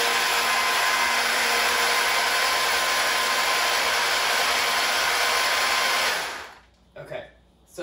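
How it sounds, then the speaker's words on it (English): A mini food processor whirs at a high, steady, loud pitch as it pulverizes onions, then cuts off abruptly near the end, followed by a couple of brief rattles as the container is shaken. "in a mini food processor, and I'm just gonna pulverize them"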